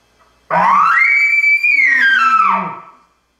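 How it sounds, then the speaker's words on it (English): Shrill elk scream challenge call without grunts that climbs quickly into a sustained high whistle, wavers, then drops away after roughly two and a half seconds, heard alone and close. "that's the scream or a real challenge call without grunts"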